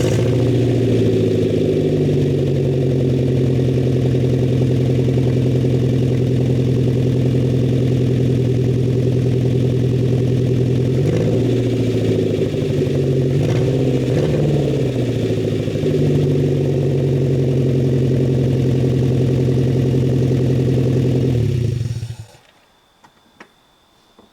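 A loud, raw Hyundai Tiburon engine with no exhaust pipes idles steadily with a deep throbbing rumble and no muffling, then cuts off abruptly near the end.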